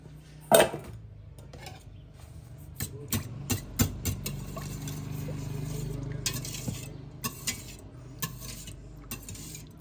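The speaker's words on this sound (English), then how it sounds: "Let's break those up a little bit with the whisk." Eggs being broken up with a whisk in a bowl for a dairy-free pandan coconut cream pie filling, heard as a series of light clinking taps against the bowl with soft stirring, close and fairly quiet.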